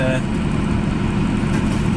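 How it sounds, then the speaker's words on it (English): Tractor engine running with a Shelbourne Reynolds hedge trimmer fitted, a loud steady low drone with a throbbing mechanical rumble, close by and alone for two seconds. "it is a really good machine, really good on this tractor"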